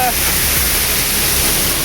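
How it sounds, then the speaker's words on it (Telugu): Water pouring from the top of Arpana waterfall near a village in Rayagada: a loud, steady, broad roar filling the whole moment without a break. "అల్ల మీద నుంచి అయితే వాటర్ పడుతుంది"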